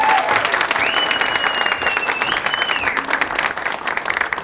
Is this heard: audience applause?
yes